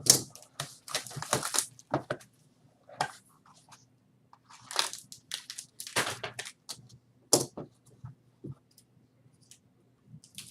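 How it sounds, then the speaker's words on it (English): Scissors snip through flimsy foil wrappers on 2022 Onyx Vintage baseball card packs, giving a run of crisp, close clicks and crinkly cuts in short uneven bursts with quiet gaps between. "I use the scissors to open them because these are so flimsy"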